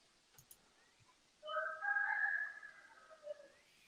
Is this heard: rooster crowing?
yes